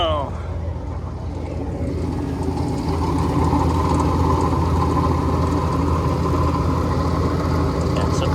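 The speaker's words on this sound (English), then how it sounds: "compressor does fire up and it runs" A Daikin air conditioner compressor kicks on and settles into a steady, loud mechanical hum and drone that holds throughout, with a person talking over it.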